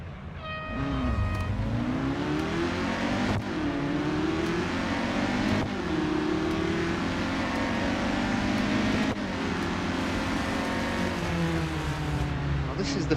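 A race car engine in the Real Racing 3 video game revs and climbs through gears, with a steady loud whine rising and dropping at each shift, continuous throughout around Mount Panorama.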